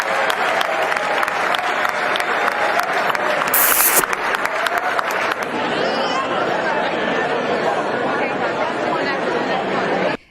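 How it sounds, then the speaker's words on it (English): Long sustained applause from a large audience at the State of the Union address, a dense roar of clapping with crowd chatter, loud and continuous before cutting off abruptly. "there was an awkwardly long applause for them"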